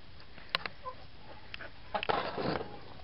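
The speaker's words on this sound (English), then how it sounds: "These are the annoying chickens." Several chickens cluck in short, scattered bursts, some nearer and some farther off, over a quiet background.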